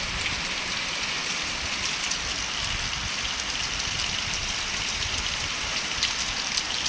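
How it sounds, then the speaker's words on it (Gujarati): Steady, dense rain pours down outdoors onto sandy ground during a power outage, a constant hissing wash with faint patter and no voices. "2 વાગ્યાનો વરસાદ ચાલુ થઈ ગયો છે."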